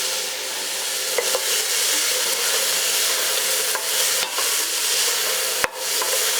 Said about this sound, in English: And you want to saute these for about 5 minutes until the onions are translucent.